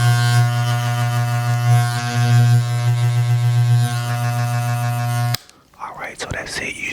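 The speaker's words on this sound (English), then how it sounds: "And then you just cut it on a little bit to let the oil sink in between the clipper blades." Electric hair clippers run with freshly oiled blades in a barbershop, giving a loud, steady close-up buzz with a strong hum that cuts off abruptly near the end, followed by faint handling noises.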